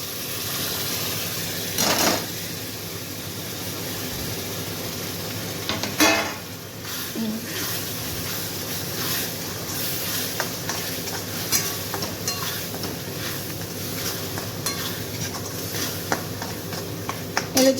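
Tomato puree for pav bhaji cooks in oil with a soft, steady sizzle, broken by occasional scraping and clinks of a spoon stirring against the pot, with no talk.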